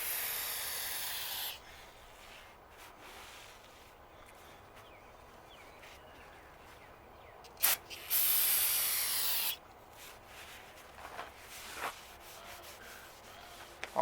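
Bursts of hissing aerosol spray paint on a car, one long blast at the start and another in the middle, separated by quiet stretches with faint rubbing sounds.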